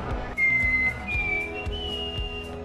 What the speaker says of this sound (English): I can whistle really well.